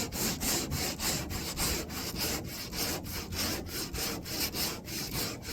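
Plastic board file sanding the edges of a workpiece straight, a steady rhythmic back-and-forth rasp of about a dozen strokes, close and even.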